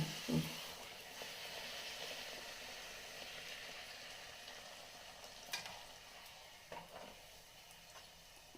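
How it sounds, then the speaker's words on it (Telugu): Puris fry in hot oil with a soft, steady sizzle, faint and close, broken by a few light clicks and taps of utensils. "దుబ్బితే కూడా వేడి ఆయిల్ వేస్తే పొంగుతున్నారు"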